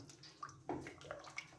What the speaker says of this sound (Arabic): صافي غنزيدو شويه ديال الماء، حسيت بها بقى شويه قاصحه